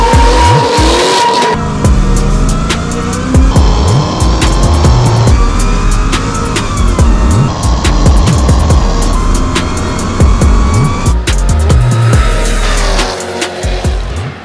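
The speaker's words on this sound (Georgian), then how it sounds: "მზად ხართ 709 ზალიანი Mercedes-ი როგორ ისტარტებათ ნახოთ?" A 700+ hp Mercedes-Benz W124 race car launching, its engine roaring loud and close with sustained tire squeal and skidding, revs rising and dropping in waves for several seconds.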